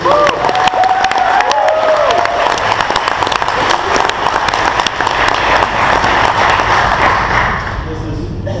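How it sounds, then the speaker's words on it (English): A large audience at a Verve company event bursts into loud, sustained applause with scattered cheers and sharp individual claps, tapering slightly at the end. "give a huge round of applause for Ambassador Leaders"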